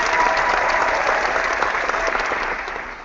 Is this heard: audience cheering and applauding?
yes